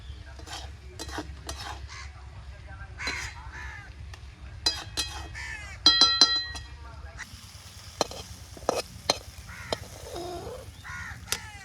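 Bottle gourd and shrimp curry stirred in a frying pan, with repeated sharp clinks and scrapes of a spoon against the pan over a low simmering bubble, while crows caw in the background.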